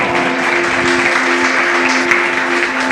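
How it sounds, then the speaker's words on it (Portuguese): Church congregation clapping steadily and loudly together during a service, a dense continuous wash of applause with a sustained tone running beneath it. "Louve ao Senhor com as suas palmas, bem forte."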